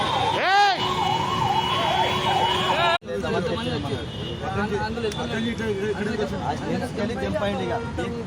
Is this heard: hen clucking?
no